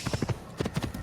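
Horse hooves clip-clop in the Assassin's Creed video game, a quick, steady run of crisp close footfalls repeating in an even gait.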